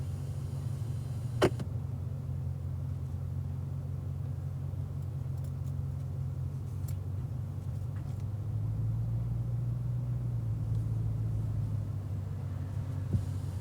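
A Cadillac CTS-V creeping slowly into a parking spot after track laps, a steady low engine rumble close by with faint clicks and no talk.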